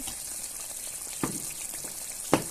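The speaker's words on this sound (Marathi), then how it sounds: "मसाल्याला छान अशी उकळी आलेली" A pan of thick masala sauce simmers and sizzles softly and steadily, with two sharper pops or clinks standing out.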